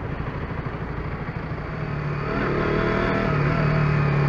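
A KTM RC 125 sport motorcycle with stock exhaust hums steadily, then rises in pitch and volume as it accelerates, fairly quiet and smooth.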